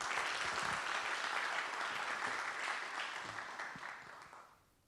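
An audience applauds to welcome a minister to a university campus, a full, steady round of clapping that holds strong before tapering off and fading out at the close.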